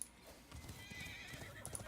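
A horse sound effect in a card video game: a single whinnying neigh rises and falls over a soft clip-clop of hooves, steady and close, with no talking.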